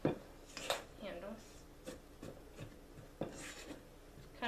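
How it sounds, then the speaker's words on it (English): A spatula folding pumpkin muffin batter in a bowl gives soft scraping strokes and occasional clicks against the side, close and quiet, with talk over parts of it. "I'm going to take my spatula, mix these together."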